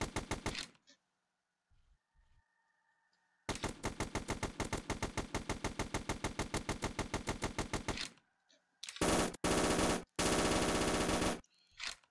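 Rapid assault rifle fire with a red dot sight in a zombies-style video game, loud sustained automatic bursts separated by short pauses, ending in two dense bursts.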